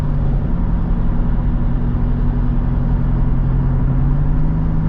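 Steady low rumble of tire road noise heard from inside a Toyota 4Runner TRD Pro cabin while cruising, a constant droning hum with a faint engine tone, loud and unbroken with no talking.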